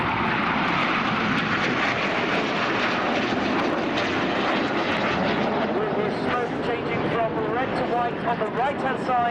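Several RAF Red Arrows display jets roar past at an air show, with a loud, sustained, broadband rush whose pitch shifts toward the end as they pass, and a commentator talking over it.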